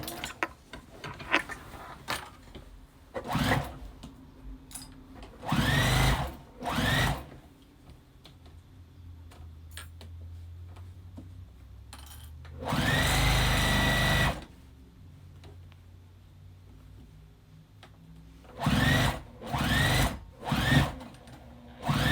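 Sewing machine stitching around the collar of a quilted jacket, heard as several short bursts of fast, whirring stitching with quiet pauses between them, close to the listener and with no talking.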